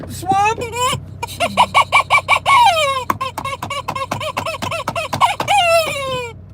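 A chicken clucks in a rapid rhythmic series of close, loud squawks and cackles, ending in a drawn-out crowing call, heard alone with no talk.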